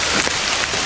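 Heavy rain pours steadily at night in a dark outdoor spot, a dense, continuous hiss of drops drumming on surfaces with no voices over it.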